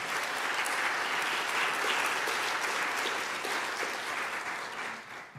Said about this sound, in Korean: 박수로 응원하십시오.